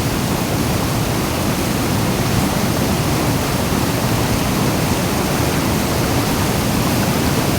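Fast-flowing river current rushing through a kedung pool, a dense, steady roar of water that stays loud and unbroken throughout, with no voices.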